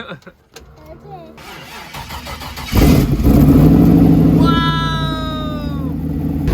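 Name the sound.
LS1 V8 engine in Mitsubishi Eclipse starting and revving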